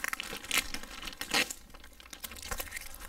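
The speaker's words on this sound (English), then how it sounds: "you can go ahead and pull this tape off" Tape and a plastic bag being pulled off a Chanson Miracle MAX water ionizer, heard as crinkling and tearing bursts with several louder rips at close range and no talking.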